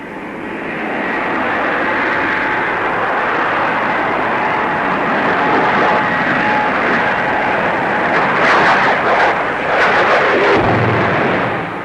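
A de Havilland DH-113 twin-seat night fighter roars steadily past at a Farnborough airshow, a loud sustained engine drone with a brief surge of rushing noise toward the end.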